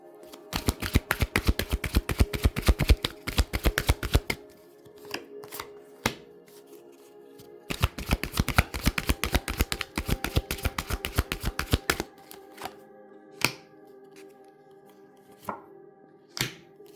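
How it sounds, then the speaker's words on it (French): Tarot cards are shuffled and handled on a table, long rapid runs of riffling card flicks followed by scattered single taps and slaps as cards are laid and covered, close and clear. "je vais recouvrir les cartes"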